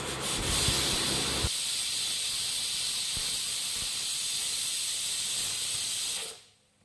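A steady, loud rush of steam hisses as a pressure cooker cooking ghee rice whistles for about six seconds, then cuts off abruptly into quiet.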